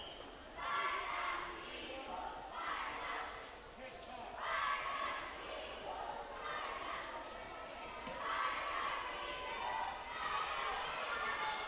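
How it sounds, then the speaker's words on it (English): A crowd at a high school volleyball game murmurs and cheers in swelling waves near the end of the match, while an announcer talks over the steady gym noise and the squeak and bounce of play. "Crowd getting into it a little bit here as they sense the end of the game is near."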